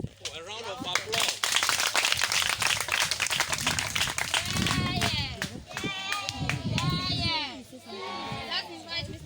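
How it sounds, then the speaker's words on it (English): An audience claps at a debate club inauguration, a dense, sustained round of applause lasting several seconds. Voices and cheers mix in partway through, and the applause thins toward the end. "A round of applause."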